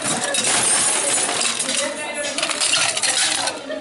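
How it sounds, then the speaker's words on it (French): A cocktail shaker with gin and ice shaken hard, giving a dense, loud rattle of ice cubes that churns continuously for several seconds with slight pulses in its rhythm. "Shaker énergiquement."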